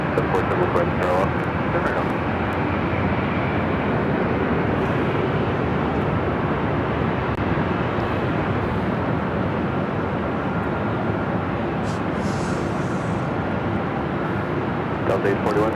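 A twelve-year-old Lufthansa Boeing 747-8 Intercontinental airliner at LAX, bound for Frankfurt, gives off a steady, loud jet-engine roar that holds constant throughout, with voices in the background.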